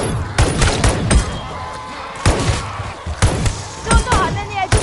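Rapid gunfire rips through a zombie shooting game in bursts of close, punchy shots, with a character talking over the shooting.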